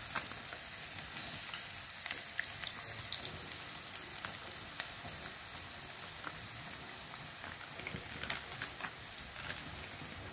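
Curried kidney frying in a pot for a Jamaican curry, a steady dense sizzle with scattered crackles and pops running throughout, fairly close and without any talk.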